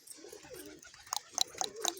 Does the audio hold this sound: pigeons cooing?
yes